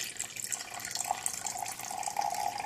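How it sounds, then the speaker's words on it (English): Liquid pours steadily into a liquid measuring cup in a home kitchen, a continuous soft trickling and splashing, close and fairly quiet with no talk. "the way you measure liquid ingredients is you pour it into the liquid measuring"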